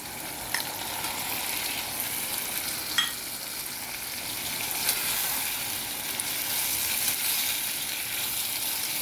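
Eggplant pieces fry in hot oil for a Maharashtrian vangi dish, giving a steady soft sizzle with occasional louder pops and a few stirring scrapes, moderately close and with no voices.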